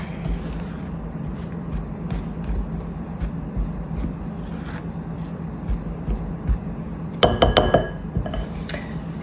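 Half a teaspoon each of sugar and salt mixed into dry bannock ingredients in a bowl, a soft continuous stirring scrape with a burst of clinking utensil taps near the end.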